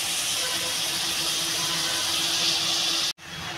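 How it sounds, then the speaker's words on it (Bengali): Prawns frying in a pan give a steady, loud sizzling hiss that runs unbroken for about three seconds, cuts out briefly, then resumes. "বন্ধুরা চিংড়ি মাছটা একটু লাল করে ভেজে নেব।"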